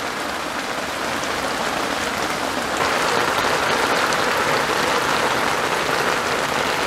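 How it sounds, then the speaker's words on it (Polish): Heavy autumn downpour drumming on a fishing tent at a carp-angling lakeside, a dense, steady hiss that swells slightly louder midway and continues alone without any voices. "czekamy, aż ta ulewa pozwoli mi chociaż wyjść z namiotu"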